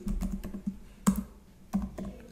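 Typing on a computer keyboard while entering a code comment: a quiet, close patter of keystrokes, uneven, with a few sharper clacks standing out.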